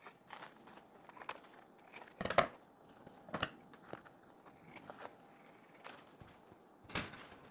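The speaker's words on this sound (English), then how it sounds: "we'll use some scissors to cut it" Scissors snip through paper towel in a series of quiet, irregular cuts, each a short crisp crunch, close by with no talking.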